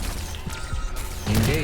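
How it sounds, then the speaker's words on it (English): Weapon reload in the video game Lemnis Gate: short mechanical clicks and clacks of a magazine and action cycling, close and crisp over a game soundscape, with a voice speaking briefly. "Arm. Reload."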